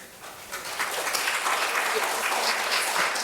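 A meeting audience breaks into applause, clapping that swells within the first second and holds steady and fairly loud, with faint voices mixed in.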